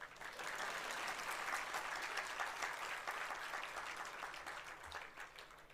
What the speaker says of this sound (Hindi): ताली ठीक से बजा सकते हैं।